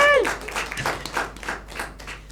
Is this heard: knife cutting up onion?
no